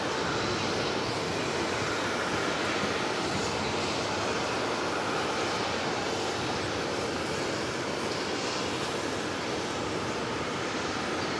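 A Boeing 787-9 Dreamliner arriving from Abu Dhabi lands at JFK airport, its engine roar a steady, broad rushing drone that holds even and fairly loud throughout, with no voices.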